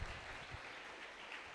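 A church congregation claps together during a family worship service, a brief burst of dense, steady applause that sounds somewhat distant.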